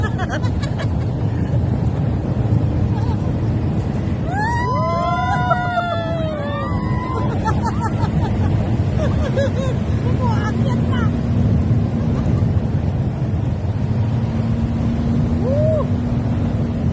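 A motorboat engine's steady, loud drone runs throughout with wind and water noise, while a voice calls out briefly over it.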